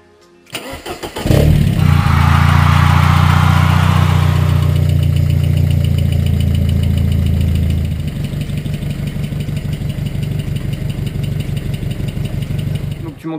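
The engine of a home-built car cranks and catches, then runs at a loud steady idle. The idle drops to a lower, rougher rhythmic putter about eight seconds in and keeps running until the end, close to the microphone.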